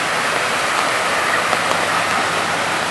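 Floodwater rushes down North A Street in Tampa, Florida during heavy rain, a loud, continuous broadband roar of torrential flow with no voices.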